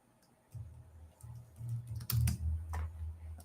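Keys clatter on a computer keyboard in irregular bursts of typing, close and fairly soft, with a few sharper clicks and no talking.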